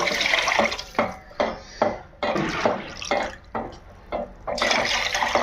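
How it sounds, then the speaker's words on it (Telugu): Water is poured into a pan for vermicelli in a series of short, splashing bursts, each pour starting and stopping in an uneven rhythm, close and fairly loud. "ఒక కప్పు సేమియాకి రెండు కప్పుల నీళ్లు పోసుకొని"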